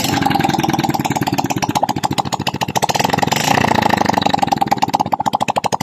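A Euro Keeway 125 motorcycle engine, freshly overhauled and running with its exhaust removed, idles after a kickstart with a loud, raw, rapid putt-putt, the pulses wavering in speed as the revs dip and rise again.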